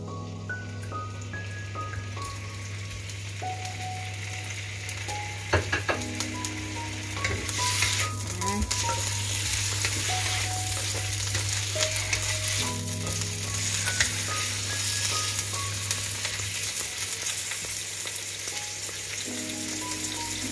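Pork meat frying in hot cooking oil in a pan, a steady loud sizzle throughout with occasional clinks and stirring scrapes and a constant low hum underneath.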